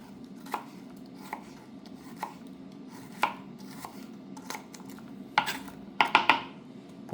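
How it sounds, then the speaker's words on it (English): A PAUDIN kitchen knife with a Pakkawood handle chops food on a cutting board: crisp, evenly spaced knocks come at first, then a quicker cluster of louder chops near the end, close and clear with no talking. "We'll chop up the whole thing."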